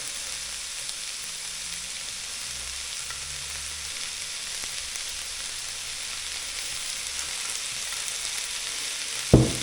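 Shallots frying in fat in a pan give a continuous soft sizzle, fairly quiet and even, with light stirring, and a brief knock near the end.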